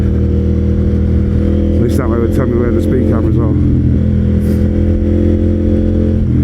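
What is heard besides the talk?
KTM Duke 890 motorcycle with Akrapovic exhaust accelerating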